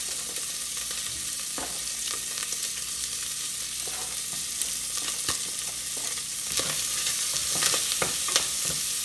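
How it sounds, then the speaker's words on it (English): Onions, green onions and garlic sizzle steadily in a hot pan for Haitian bread soup, with soft stirring clicks over the continuous frying hiss, growing slightly louder toward the end. "I'm going to go ahead and add my onions, my green onions, and my garlic"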